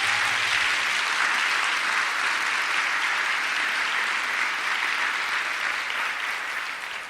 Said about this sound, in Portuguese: Então aplauda a Nossa Senhora aí,